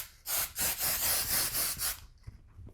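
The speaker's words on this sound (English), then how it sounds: "we're taking a little bit of hairspray." Hairspray hisses in several quick pulsing bursts onto braided hair, close and fairly loud, then stops with a small tap.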